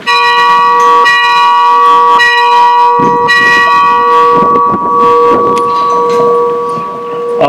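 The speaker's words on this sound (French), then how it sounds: "je demande à Pierre d'aller sonner la cloche." A church bell rings loudly and close, its repeated strikes sustaining long resonant overtones that overlap and swell with a noisy, clanging wash mid-way.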